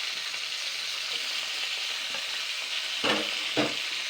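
Chopped capsicum and tomato fry in a pan with a steady, close sizzling hiss, broken near the end by two quick stirring scrapes.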